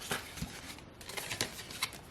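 Paper cash bills, two twenties and a five, are handled and slid into a budget envelope, giving soft papery rustles and a few crisp flicks up close, with no talking.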